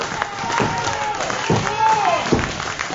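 Crowd at an IWC professional wrestling show in Clearfield roars steadily, with shouting voices rising and falling over a continuous wash of cheering and some clapping.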